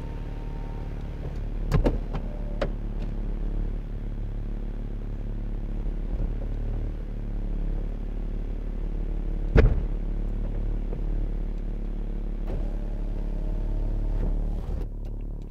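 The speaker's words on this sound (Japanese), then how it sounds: "ではハードトップを閉めてみたいと思います。" Electric hardtop of a 2009 BMW Z4 sDrive35i closing: a steady motorized whir with a few sharp mechanical clunks and latch clicks spread across the cycle, heard up close.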